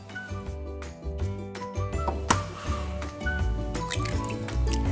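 Two eggs crack into a bowl for French toast batter, a single sharp crack and wet squish, then soft dripping, all fairly faint under steady background music.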